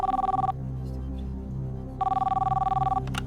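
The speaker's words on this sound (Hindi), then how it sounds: "वेदांत मलिक को फोन लगाया जाए" A telephone rings on the Kaun Banega Crorepati quiz show set as a computer dials a contestant's phone-a-friend call: two clear electronic ring bursts separated by a short pause, loud and close, with no talk over them.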